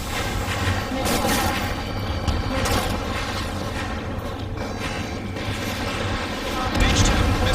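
Missile launches and explosions in the flight combat game Ace Combat 7, a dense continuous rumble of engine noise and booming blasts, loud and close, with radio chatter voices mixed in throughout.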